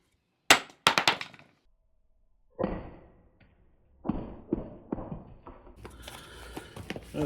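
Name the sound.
lump hammer striking porcelain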